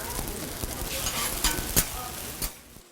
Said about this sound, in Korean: 기름이 지글지글 끓다 보면